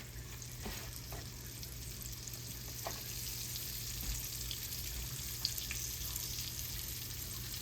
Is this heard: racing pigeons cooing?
no